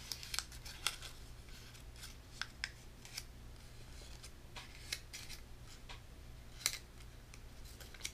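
Paper being folded and creased for an origami beagle, soft rustles and crisp little crinkles at close range, scattered irregularly over a quiet low hum with no speech.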